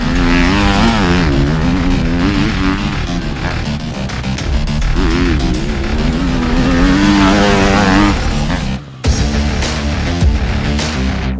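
A KTM 450 motorcycle engine revs and pulls hard through the gears, a loud continuous rising and falling drone with a brief cut near the end, heard on its own without talk.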